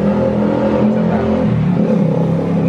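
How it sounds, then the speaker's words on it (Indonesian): A passing motorbike's engine hums and revs steadily nearby, a continuous drone with slight rises, no voices. "ada suara motor lewat ini soalnya"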